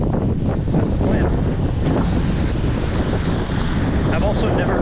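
Blustery wind buffets the microphone with a low, constant roar on a rainy half marathon day, and a hiss that may be rain runs beneath it throughout.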